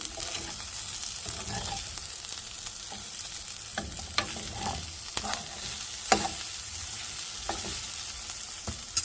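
Corn fries in a pan while it is stirred, with a continuous close sizzle and occasional scraping taps from the spoon and no voices.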